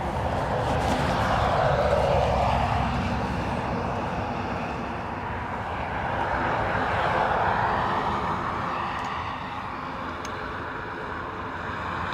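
An Aer Lingus A320 arriving from Rome at Dublin Airport makes a continuous broad jet roar. It swells and fades twice as the plane passes at a moderate distance.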